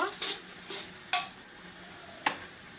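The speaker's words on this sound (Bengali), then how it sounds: "এখন হচ্ছে মশলাগুলো আমি ভেজে নেব" Spices fry quietly in a pan for beef tripe. The soft sizzle is broken by a few sharp scrapes and taps of a stirring spoon, close by and fairly faint.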